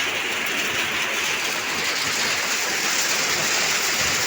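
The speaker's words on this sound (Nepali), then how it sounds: "असिना पर्ने क्रम जारी नै छ" Hailstones fall continuously in a spring hailstorm, a dense, steady hiss and patter of ice striking the ground and nearby surfaces, loud and unbroken throughout with no voices.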